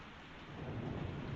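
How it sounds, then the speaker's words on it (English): A thunderstorm in a 1946 film, steady rain hissing on surfaces while a low thunder rumble swells and grows louder toward the end, with no voices. "And poor Edwards, these storms don't do him any good."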